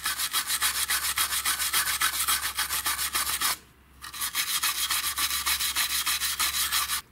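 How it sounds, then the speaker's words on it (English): A small wire brush scrubs old RTV silicone off the valve cover of a Kohler single-cylinder OHV lawn tractor engine, fast steady back-and-forth scratching up close, briefly stopping once before resuming. "you can remove the old RTV silicone using a small wire brush"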